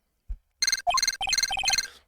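Electronic telephone ringtone from the video game Phoenix Wright: Ace Attorney, a short low thump followed by bursts of bright repeating trilled beeps, close and clear with no talking.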